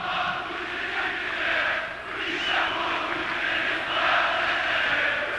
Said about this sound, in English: Crowd in great voice.